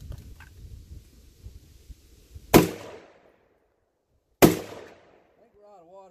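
Two loud, sharp rifle shots fired with 150 grain ammunition from a drum magazine outdoors, spaced about two seconds apart, each with a ringing decay, after some faint rustling and handling noise.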